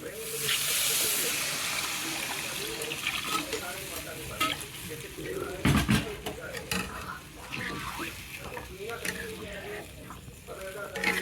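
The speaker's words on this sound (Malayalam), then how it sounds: "അതിലേക്ക് വെള്ളം പാരാമേ." Water poured into a sizzling Bihari-style egg curry masala brings a hissing burst of steam over the ongoing fry, while people talk nearby.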